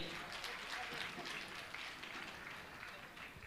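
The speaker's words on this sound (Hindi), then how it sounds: "मैं चाहूंगा आप जोरदार ताली बजाकर इनका सम्मान करें।" Faint, distant applause from an audience at a Jain religious gathering with Muni Pramansagar, honouring a family; a soft wash of many hands clapping that holds steady at low volume throughout.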